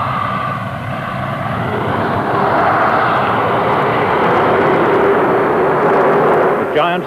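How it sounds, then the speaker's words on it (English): The British Concorde supersonic jet taking off on its maiden flight from Filton runway near Bristol: a loud, sustained roar of jet engines building and holding steady for several seconds. "The British Concorde takes to the air for the first time."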